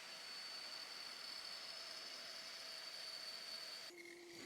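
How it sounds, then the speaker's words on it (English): A handheld router cuts around the outside perimeter of a wooden bowl blank, roughly 2 cm deep, giving a steady, loud, high-pitched whine that holds without a break and then shifts in pitch near the end. "use a router. I'm going to go around the perimeter and establish a round shape of our bowl"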